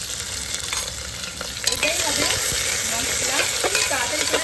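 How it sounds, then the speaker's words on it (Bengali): Chopped onions and green chillies fry in hot oil with tempering spices in a home kitchen, giving a loud, continuous sizzle with scraping stirs, and a sharper burst partway through. "এবার এদিকে পেঁয়াজ আর সঙ্গে এই যে কাঁচা লঙ্কা এগুলো দিয়ে একবারে ভাজা"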